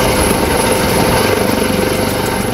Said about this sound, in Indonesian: helikopter milik Basarnas beserta helikopter swasta dan unsur udara dari TNI Angkatan Laut dan Kepolisian turut dikerahkan